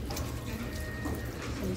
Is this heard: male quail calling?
no